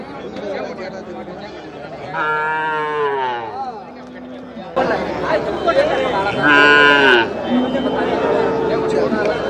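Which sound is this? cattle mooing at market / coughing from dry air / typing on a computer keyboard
cattle mooing at market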